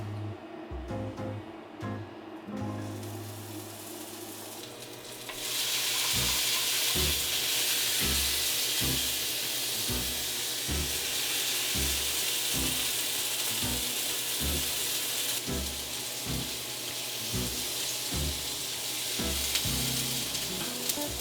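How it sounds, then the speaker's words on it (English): Food goes into a hot pan coated with oil and sizzles: a quieter start with rhythmic clicking stirs, then a loud, steady close-up hiss that lasts to the end. "Okay, our pan's hot. We're going to add just enough oil to coat the bottom."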